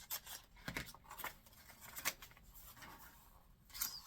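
Scissors snip through paper for book-folding decorative edging, a run of close, crisp cuts and rustles in quick uneven rhythm.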